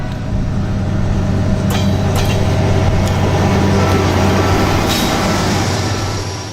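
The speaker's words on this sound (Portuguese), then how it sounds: "Tudo para a passagem do trem pela cidade" A train rumbles steadily through the city of Votuporanga, a loud continuous low roar of rail cars with a few sharp metallic clanks and squeals, heard close and without voices.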